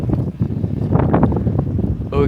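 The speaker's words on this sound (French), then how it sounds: "Il y a énormément de vent." Strong wind buffets the microphone outdoors at night beside a Peugeot 406 Coupé V6, a loud continuous low roar with gusting surges throughout, no talk over it.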